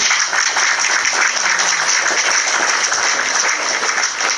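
Audience applause at a Thai variety talk show, a dense steady wash of many hands clapping that carries loud and unbroken through the whole stretch with no talk over it.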